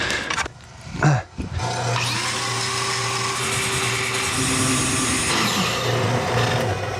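A homemade lathe in a workshop starts after a couple of clunks and then runs with a loud steady motor whine and hum that holds for several seconds.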